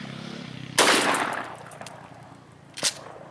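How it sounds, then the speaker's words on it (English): A home-defense shotgun fires one loud blast with a long decaying tail, followed about two seconds later by a weaker, shorter second report, both heard outdoors without speech. "I'm gonna fire the next one as well."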